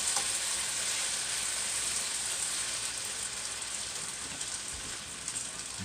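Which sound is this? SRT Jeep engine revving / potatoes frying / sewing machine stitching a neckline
potatoes frying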